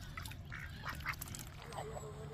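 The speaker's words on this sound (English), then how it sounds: "I am feeding the ducks." Ducks quacking outdoors while being fed, several short nasal calls scattered over a steady background hum, with a faint voice underneath.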